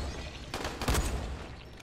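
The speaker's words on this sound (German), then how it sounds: "Zwei Schuss, zwei Treffer." Gunshots in the video game Dying Light, with a couple of quick muffled bursts close together around the middle, fairly faint over low background game ambience.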